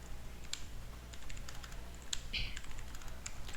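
Keys clatter lightly on a computer keyboard while data is entered into an Excel spreadsheet, sparse clicks at an irregular pace over a steady background hiss, with no voice.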